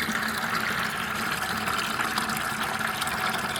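Aquarium tank water being drawn from a canister filter setup pours and gushes steadily nearby, a continuous liquid rush with no pauses and no voices.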